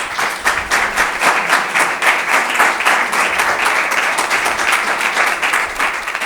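A loud, dense burst of audience clapping welcomes a guest at a public participation event in Manresa. The applause is close and sustained for about six seconds at an even intensity, with no talking.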